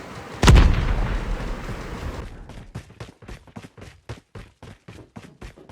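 Gunfire in Call of Duty Mobile: one loud blast, then a quick rhythmic series of around fifteen sharp shots, fairly close and with no voices.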